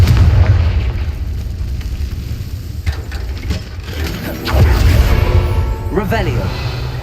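Confringo fire-blast spells explode in the Hogwarts Legacy game as deep booms and bursts over steady game sound, with a voice talking near the end.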